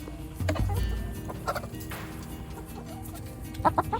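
Chickens clucking nearby, soft scattered clucks and short calls over a low steady background hum, with a brief burst of clucks near the end.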